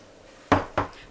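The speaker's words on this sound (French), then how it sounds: "j'ai mis tous les ingrédients dans la casserole" Two quick clinks of metal against a saucepan as ingredients go in, close and distinct, a short pause between them, otherwise quiet.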